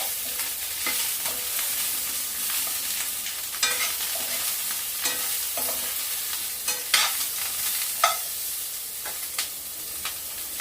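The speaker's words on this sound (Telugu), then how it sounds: "అవి ఇప్పుడు దీంట్లో వేసుకోవాలి. వేసుకొని బాగా కలుపుకోవాలి." Moringa drumstick pieces being stirred into a tomato-and-egg curry in a pan, with steady low sizzling and repeated scraping clicks of the spoon at close range, no voices.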